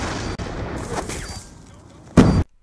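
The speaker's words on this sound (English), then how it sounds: "That was the enemy shooting at me" Enemy gunfire in Black Ops 2, a few distant cracks in the game mix followed by one louder, closer burst of shots at the end, with no talk over it.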